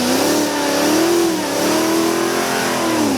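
A car engine revs hard and continuously at a drag race against a C5 Corvette, a loud, close mid-pitched roar rising and falling slightly in pitch.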